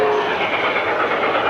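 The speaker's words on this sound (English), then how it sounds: "There's a mogul approaching in the camera now" An LGB model train Mogul locomotive runs along a track in a 1992 display layout, giving a steady, close rolling rumble with a faint rhythmic clatter that holds at a constant level.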